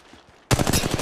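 Rapid automatic weapon fire in Apex Legends Mobile starts abruptly after a quiet half-second. It then runs as a loud, close, steady stream of shots with a choppy rhythm.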